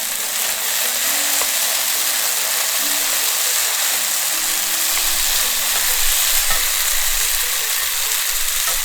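A wok stir-fry for longevity noodles, cooked until golden brown, with a constant close hiss of frying and occasional stirring scrapes, with no voices.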